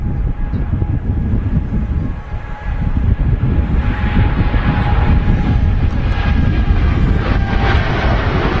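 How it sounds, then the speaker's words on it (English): A TUI Boeing Dreamliner passing at Manchester Airport, a loud, broad jet roar that swells and holds steady throughout, heard close with no talking. "Here comes the TUI Dreamliner."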